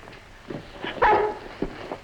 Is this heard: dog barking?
yes